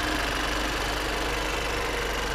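A 2017 Chevrolet Cruze with a 1.4-liter turbo engine and only 456 miles runs with a steady, even hum and no voices.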